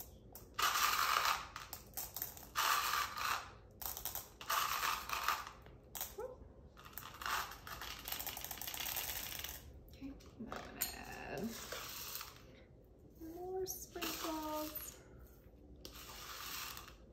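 Rainbow and gold sprinkles pour into a cake, giving a fine rattling patter of many tiny pieces that rises and falls in bursts, with occasional small clinks and a brief voice-like tone partway through.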